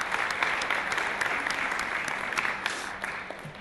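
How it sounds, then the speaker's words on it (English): An audience at an evening public forum applauds the speakers: dense, sustained clapping from a full room, steady and fairly loud throughout with scattered sharper claps. "give you a round of applause for helping us better understand"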